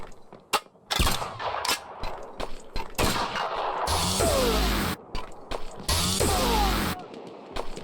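Automatic submachine gun fire from a game still in development, heard as several loud bursts of rapid shots, two of them longer sustained volleys, broken up by short gaps and a few single clicks.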